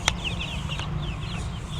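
Young meat chickens and laying hens cluck and chirp together in a flock, a busy stream of close, fairly loud calls with a sharp peep at the start.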